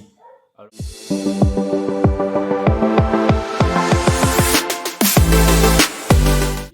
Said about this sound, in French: désolé pour le bruit des chiens que vous écoutez